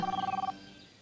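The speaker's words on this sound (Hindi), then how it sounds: "आपका फोन बज रहा है।" A phone rings with a rapid pulsing electronic tone for about half a second, then cuts off, leaving quiet room noise.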